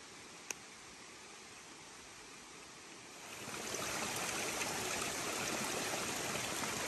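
Water rushes steadily along the Appalachian Trail, a broad hiss that swells louder partway through as the stream gets closer, with no voices.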